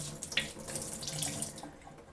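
Tap water runs steadily as broccoli seeds are rinsed in a mason jar, a continuous close splashing hiss with no talk.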